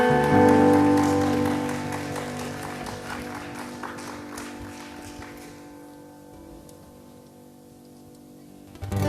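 A congregation at a Korean church youth Sunday worship service claps along, with steady rhythmic clapping over sustained worship music that thins toward the end.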